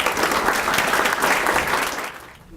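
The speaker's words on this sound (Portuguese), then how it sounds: "Senhoras e senhores, recebam com aplauso o nosso querido professor Joaquim Falcão." A room of guests at a lawyers' association luncheon applaud in a loud, even burst that welcomes a professor, then fades away at the end.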